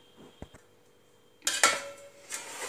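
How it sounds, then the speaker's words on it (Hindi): A metal lid set down on a pot of semolina dosa batter makes a couple of light clanks and a brief clatter, close by, with no talking. "अब इसे हम ढक्कन लगा के ढक देंगे"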